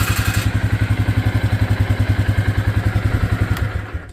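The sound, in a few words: 2010 Polaris 400 AWD ATV engine running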